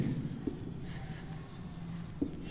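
Pen scratching across paper as a statement is written out by hand, quiet close strokes with a couple of sharper taps, faint and steady with no talking.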